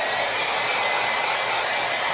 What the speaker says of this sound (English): This is a hair dryer with a cold setting.